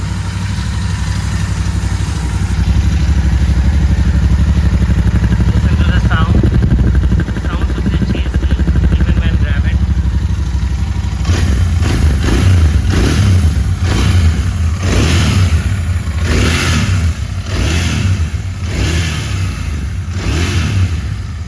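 A Royal Enfield Continental GT 650 twin-cylinder motorcycle engine idles with a steady low rumble, then revs in a series of rhythmic bursts, loud and close, with a voice speaking over it briefly.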